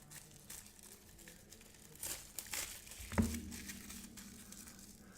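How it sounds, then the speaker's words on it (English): A board game card pack wrapper being torn and crumpled open, close crinkly plastic rustling that builds to a louder tear and crunch midway, then trails off into lighter handling. "let's open this pack next"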